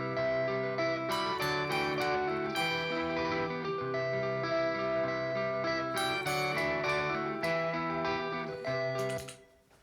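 Layered electric guitar overdubs from the riff of a song play sustained, ringing high notes over a full, steady mix that fades out at the end.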